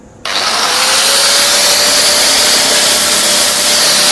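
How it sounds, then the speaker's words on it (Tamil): A handheld cutting machine grinds lightly into a metal rod, a loud, steady abrasive whine that starts abruptly and holds, with a faint ringing tone running through it as sparks fly. "இப்படி வச்சு அந்த சைடு கங்கு தெரிக்கிற மாதிரி நான் லைட்டாக அறுத்து காமிக்கிறேன்."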